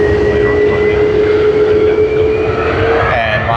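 A Qantas Airbus A330 at Sydney Airport gives a loud, steady jet roar with a sustained whining tone that holds evenly throughout.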